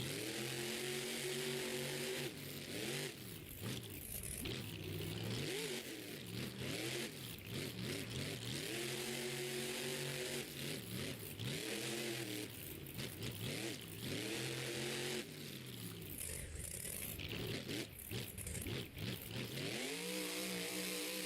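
Monster truck engines roar and rev hard at an arena show, loud and continuous with rising and falling pitch sweeps through repeated throttle bursts across the whole stretch.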